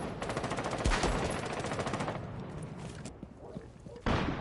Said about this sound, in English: Bull pre-firing into the window of B and finding the headshot onto Crust